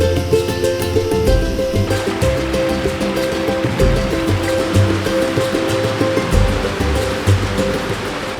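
Alcamayo waterfall cascade in the jungle near Aguas Calientes, a steady rushing roar of falling water, close and continuous, with no voices over it.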